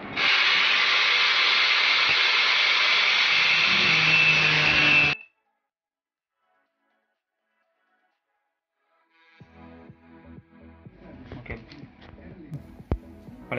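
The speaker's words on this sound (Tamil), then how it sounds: "நம்ம வந்து கட்டிங் மிஷின் வச்சு கட் பண்ணி தான் எடுக்க போகிறோம்" A cutting machine slices through the damaged bearing ring of an Amma wet grinder, giving a loud, steady grinding hiss for about five seconds before stopping abruptly. After a silent pause, clattering handling noises follow.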